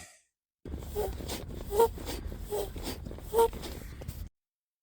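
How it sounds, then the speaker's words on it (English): Rhythmic soft puffs of air from a foot pump inflating an airbed, a few pressing strokes in a row, close by and fairly quiet. "that was me using the foot pump on the airbed"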